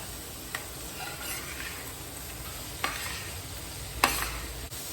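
Vegetables fry in a pan with a soft, steady sizzle, broken by a few sharp clicks of stirring.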